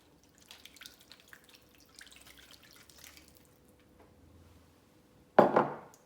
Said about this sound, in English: With the stock, give it a little stir before you put it in, just so it's dissolved. Pour it over the top.